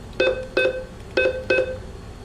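Keypad beeps on an Al Ahly Bank of Egypt ATM as a mobile phone number is entered for a Vodafone Cash withdrawal: four short, crisp electronic tones in two quick pairs, close and clear over quiet background.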